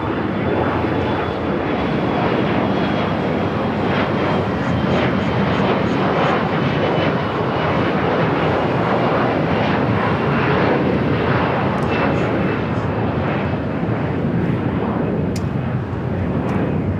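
Cathay Pacific Boeing 787-9 Dreamliner jet roaring at LAX, a loud steady broadband engine rumble and whine that holds throughout without pause, heard alone from an airfield vantage.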